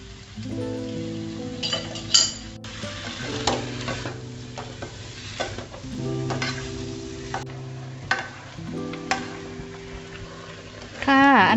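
Shrimp and pineapple stir-fry on high heat, with a steady sizzle under repeated metal scraping and clinking of a spatula against the pan, close and fairly loud; a voice comes in faintly at moments.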